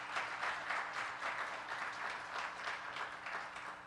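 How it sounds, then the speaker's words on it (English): Steady applause from an audience honoring speakers at an annual interfaith iftar at an Islamic center, a dense wash of many hands clapping at moderate distance, continuous and fairly even throughout. "Can we get a round of applause for all of the people that have spoken today?"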